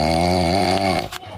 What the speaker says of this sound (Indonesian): Kayak ada suara orang ngorok.